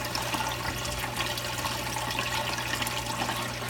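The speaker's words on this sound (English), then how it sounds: "The water flows through down into the 3-inch clear router tube, clear PVC" Water pouring steadily from saltwater aquarium overflows down into a 3-inch clear PVC tube, a constant close rushing and gurgling flow with no talk.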